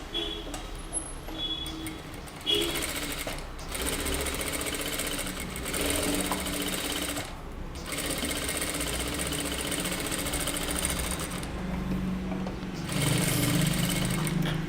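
A sewing machine runs steadily while stitching the edges of a deep-neck kurta, giving a close, continuous mechanical whirr with a few brief pauses and restarts.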